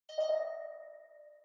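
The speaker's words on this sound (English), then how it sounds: "one of the notes gets this crazy spring reverb on there" A single guitar melody note is played through a heavy spring reverb effect. It strikes cleanly and rings with a metallic, ping-like shimmer, decaying slowly on its own.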